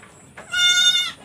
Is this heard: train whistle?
no